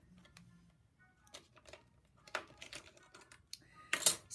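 A card is fed through a small cutting machine in a quiet room, giving sparse clicks and short scraping bursts that build to a sharper crunch near the end.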